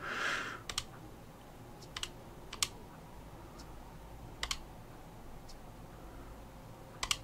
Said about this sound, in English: I'm just clicking now, don't care.